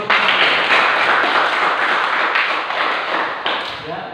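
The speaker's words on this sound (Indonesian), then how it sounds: "Tepuk tangan dulu untuk kelompok 1." A classroom group of students claps for a presenting group in a teaching session, loud and close, with dense steady clapping throughout and faint voices mixed in.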